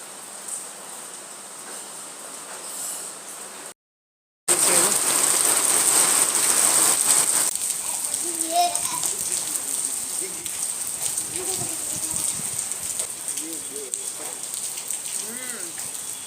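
Steady morning rain pours down in a constant hiss, briefly cut out once, with faint voices and small sounds underneath later on.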